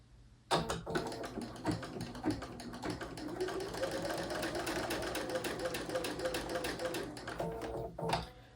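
A sewing machine runs steadily while chain piecing quilt fabric, a continuous close motor whirr with needle clatter lasting about eight seconds between brief pauses at start and end.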